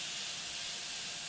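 An airbrush spraying slightly too-thick paint gives a short, steady, close hiss that holds evenly for just over a second and then cuts off.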